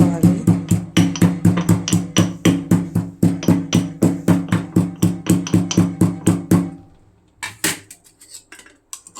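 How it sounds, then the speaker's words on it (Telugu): Ginger, green chillies and cumin are pounded in a mortar, a rapid series of loud, sharp thuds in steady rhythm for several seconds, then slowing to a few scattered strikes. "బాగా దంచుకోవాలి."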